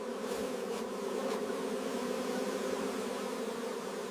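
Honey bees buzz steadily around honeycomb frames in a honey processing room, a continuous close droning hum that holds even and unbroken throughout without any voices.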